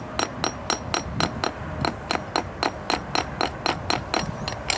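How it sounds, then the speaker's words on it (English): Rapid, evenly spaced taps of a hammer on a fresh concrete slab, closing cracks, about three or four strikes per second, close and crisp, with no talking. "take a hammer and tap them back closed"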